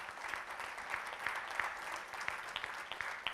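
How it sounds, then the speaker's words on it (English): Quiet audience applause at an award ceremony, a light, steady patter of clapping with individual claps standing out. "A louder applause, please."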